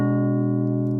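A Bohlen-Pierce wide triad with an extra note added above the root, played on a synthesizer as a brief sustained chord heard alone.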